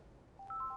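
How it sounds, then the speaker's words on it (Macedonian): Telephone dialing tones in a television studio as a call-in viewer is connected, a short run of clear beeps rising out of faint line hiss. "А ние телефонски се поврзуваме со нашиот нов гледач."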